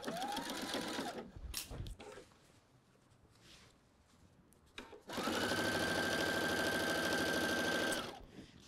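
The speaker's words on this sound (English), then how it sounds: "I'm gonna go to the machine, and I'm going to stitch this at about 1/4 inch" Sewing machine stitching a fly front zipper seam about a quarter inch in, with two clear bursts of steady, loud motor whirr: a short run at the start, then a longer sustained run after a quieter pause.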